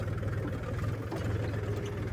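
A farm tractor in hilly fields after the wheat harvest runs with a steady, even low engine drone, close and continuous with no talk over it.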